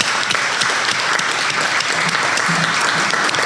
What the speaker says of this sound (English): Let's give a round of applause to Margot and her family of authors